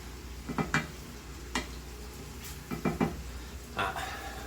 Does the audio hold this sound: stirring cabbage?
yes